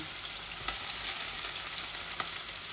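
Chicken feet fry in a pan with ginger, garlic and onion, giving a dense, even sizzle close by, broken by two sharp utensil taps.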